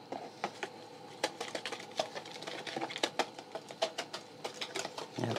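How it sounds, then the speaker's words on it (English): A knife chops onions into rings on a cutting board, a quick run of crisp, evenly spaced taps up close, with no talking. "just cut your onions maybe 1/4 to 1/2 an inch thick."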